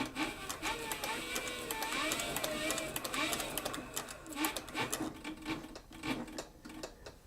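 Cowboy CB4500 sewing machine stitching leather, quick rhythmic clacking of the needle in short bursts, close and fairly quiet, with a person talking over it.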